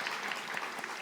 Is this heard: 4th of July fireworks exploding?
no